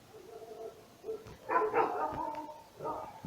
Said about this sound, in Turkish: Köpekler iyice kudurdu ha.